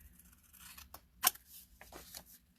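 Scissors snipping through paper card along an envelope flap, a few quiet, close cuts with one sharper crisp snip in the middle, set against a near-silent room.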